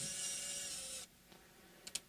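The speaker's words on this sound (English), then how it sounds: "drill it at a 45-degree angle." A power drill whirs steadily while drilling into the bridge of a Luna Henna Oasis guitar at an angle, a close high-pitched motor whine that stops abruptly and is followed by a few small clicks.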